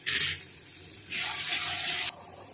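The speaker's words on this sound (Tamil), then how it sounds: "தண்ணி சேர்த்துருவோங்க" Water pours into a pot of bottle gourd kofta curry (surakkai kola urundai kuzhambu) in two splashing bursts, the second longer and steadier, close by with no talking.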